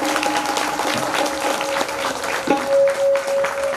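Audience clapping steadily at a Bhagwat Katha religious discourse, a dense continuous applause from a crowd that swells slightly toward the end, with no talk over it.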